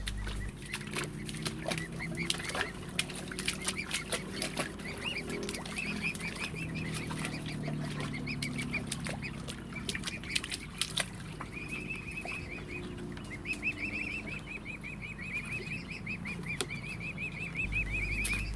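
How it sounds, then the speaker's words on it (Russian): Outdoor waterside scene where a swan family moves about, with repeated chirping birdsong, soft splashes and wing flaps, and some clucking fowl in the background, all at moderate level. "А сейчас послушайте, как поют птички, как шлепают по воде лебеди"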